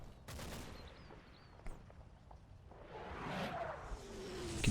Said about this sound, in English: So that's our howitzers.